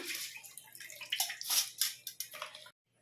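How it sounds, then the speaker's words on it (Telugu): Washed rice draining in a strainer, close wet trickling and splashing water with irregular gurgles and drips, fading to silence at the end. "ఇలా వడబుట్టలో వడేసుకుందాం బియ్యం."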